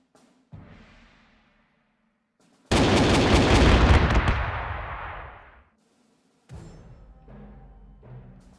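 Artillery fire in the World War II strategy game Panzer Corps 2 on the Warsaw map: one heavy booming blast that rolls and decays over a couple of seconds, flanked by quieter game effects.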